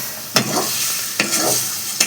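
Chicken fries with a steady sizzle in a pan, broken by three sharp stirring scrapes of a spoon, close and loud with no talking.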